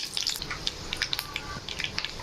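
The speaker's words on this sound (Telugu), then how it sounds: "స్టవ్ పై కడాయి పెట్టుకుని ఒక 2 టేబుల్ స్పూన్లు ఆయిల్ వేసుకుని కొంచెం పచ్చిశనగపప్పు, కొద్దిగా మినపప్పు," Lentils and mustard seeds frying in a couple of tablespoons of oil in a kadai on a stove, giving a steady close crackling sizzle with sharp pops scattered throughout.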